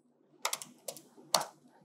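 Typing a command on a computer keyboard: three short clusters of crisp key clicks, close and fairly loud, separated by brief pauses in an otherwise quiet room.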